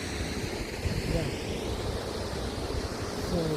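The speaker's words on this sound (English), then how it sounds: "So those are the waterfalls." Waterfalls at an animal park in Chania, a constant broadband rush of falling water with wind buffeting the microphone, steady and fairly close, with no clear speech over it.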